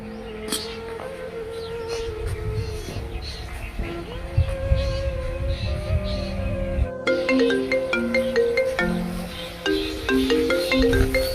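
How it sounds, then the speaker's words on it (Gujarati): A synthesized phone ringtone plays a repeating electronic melody, joined midway by a brighter, busier tune, with low background noise and faint voices underneath. "ત્યાં ફરી કોનો ફોન આવ્યો"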